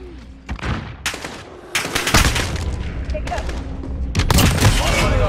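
Sniper rifle shots ring out in a first-person shooter game, several sharp loud reports spread across the moment, interspersed with quieter in-game action and effects; no talking is heard.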